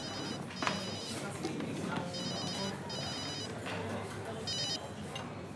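A telephone rings repeatedly in bursts in a busy café, with clinking, background chatter and room noise.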